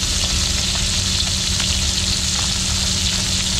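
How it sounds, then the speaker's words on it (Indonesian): Salted fish frying in a pan, a steady loud sizzle throughout, close up with no voices. "Oke, kita goreng ikan masin ya"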